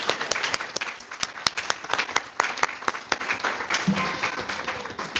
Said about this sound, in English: And I think that deserves another round of applause.